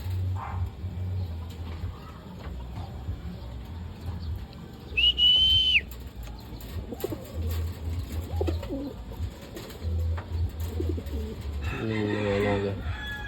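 Pigeons coo softly while eating peanuts from a hand, giving low repeated murmurs under quiet handling sounds, with a brief whistle-like tone in the middle and a burst of bird calls near the end.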